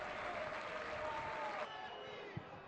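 Crowd in a football stadium during Crotone versus Grosseto applauds a substituted player, a broad, distant wash of clapping and crowd noise at moderate level, with a commentator talking over it.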